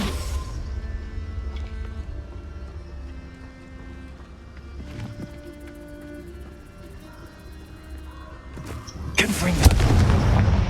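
A Confringo blasting spell goes off in the game Hogwarts Legacy, a sudden loud burst of explosion near the end that follows a quieter stretch of humming game ambience with faint booms.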